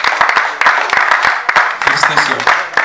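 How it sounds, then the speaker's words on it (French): Audience at a certificate ceremony at a training centre in Kinshasa claps in sharp, scattered bursts, fairly close and loud, with voices talking over and between the claps. "Vos applaudissements s'il vous plaît."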